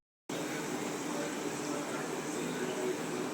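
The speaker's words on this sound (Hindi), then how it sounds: "तड़का हमारा लाल हो चुका है तो अब हम दाल में तड़का डाल देते हैं।" Hot red-fried tadka with whole red chillies poured into masoor dal, giving a steady broadband sizzling hiss that starts abruptly and holds loud and even throughout.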